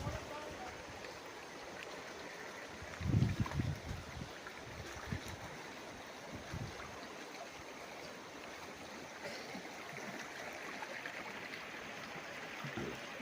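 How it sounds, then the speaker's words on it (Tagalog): A river at the rear boundary of a farm lot in Cavite flows with a steady broadband rush and trickle throughout, with a brief low thump near the third second and no voices. "Ang ilog na to."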